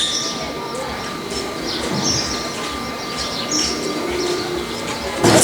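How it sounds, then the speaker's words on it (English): Pigeons in an old square in Kathmandu, soft scattered calls and chirps heard at a distance within busy outdoor city ambience, with a bump of noise near the end. "See all the pigeons up there"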